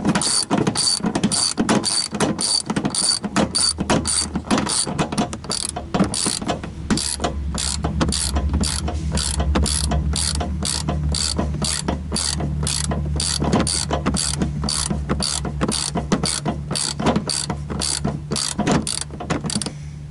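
A ratchet wrench clicks in a fast, unbroken stream as it unscrews the spare wheel bolt on a 2010 Nissan Cube, close and loud throughout with a low mechanical hum underneath.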